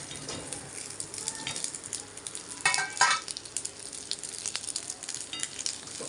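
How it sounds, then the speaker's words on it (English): Rice balls fry in a pan with gunpowder spice powder, a steady close sizzle broken by louder crackling bursts and scraping as they are stirred, with no one talking. "Now add the rice balls in it."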